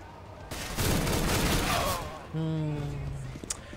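Gunfire from Counter-Strike: Global Offensive in a dense burst of rapid shots lasting over a second, followed by a tonal in-game sound and a few sharp clicks.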